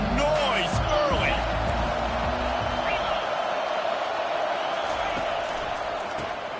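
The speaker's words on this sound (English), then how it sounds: "This crowd bringing the energy and noise early." Football stadium crowd during a college football game, a loud continuous roar with scattered whoops and cheers, steady throughout and heard alone with no talking.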